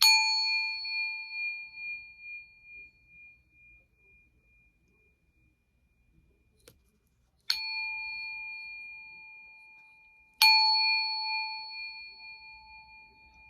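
Small meditation bells are struck three times, each a clear, bright ring that hangs and slowly decays, with a long quiet stretch between the first strike and the next two.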